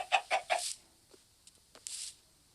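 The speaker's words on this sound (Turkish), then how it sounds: "Tavuklar gelin bakayım tavuk." Minecraft chickens cluck in a quick series of three sharp notes, followed by softer scattered clucks and a short squawk; fairly quiet and close.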